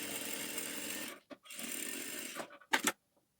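A sewing machine stitches a stiff blouse patti in two sustained whirring runs broken by a short pause, then stops after a few quick clattering bursts.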